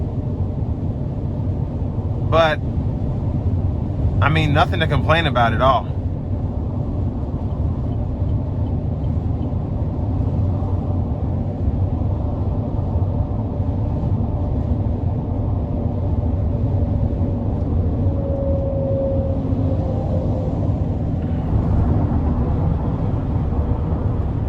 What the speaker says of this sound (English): I think because the rear glass is right by my head, the wind noise is a little louder.